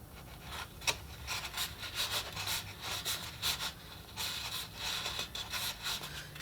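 A paper strip is burnished onto a steam-punk model locomotive boiler, giving faint, close rubbing strokes in a quick, uneven rhythm of soft scratchy swipes.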